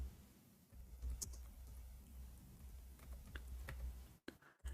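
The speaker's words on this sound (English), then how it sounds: "No, I'm typing in Arabic." Rapid typing on a computer keyboard, a steady patter of light key clicks over a low background hum, with a brief pause near the end.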